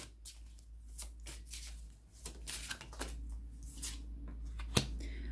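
A deck of tarot cards is shuffled by hand during a reading, giving quick riffling bursts and soft slaps close up, repeated in irregular spurts over a low steady hum.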